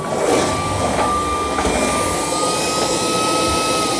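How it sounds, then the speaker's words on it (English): A Shark PowerDetect IA3241 cordless vacuum running close by at high suction, a loud steady whooshing roar with a high motor whine held throughout. "There, it ramps the suction up whenever the floor is dirty."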